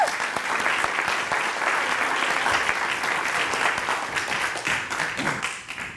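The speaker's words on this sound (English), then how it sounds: "Let's give him a round of applause." An audience at a city manager meet-and-greet applauds to welcome the new city manager, with steady, dense clapping that holds for the full stretch and thins slightly at the very end.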